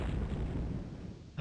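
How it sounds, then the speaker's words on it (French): A bomb goes off in the video game Lode Runner: The Legend Returns, a loud, dense blast that rumbles and then slowly fades out over about a second. "on met une petite bombe"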